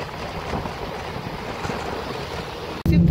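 Seawater rushing in with the high tide beside a temple, a continuous, close, wind-buffeted wash of moving water that swells into a louder surge at the very end.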